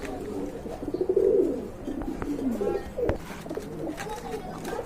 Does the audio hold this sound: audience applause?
no